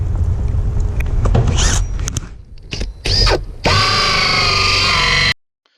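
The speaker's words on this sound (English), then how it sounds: "So here is my 3-inch hole saw, and we will just drill right on through there." A drill with a 3-inch hole saw bites through exterior house siding in short stuttering bursts, then runs in one sustained, loud whine before stopping abruptly.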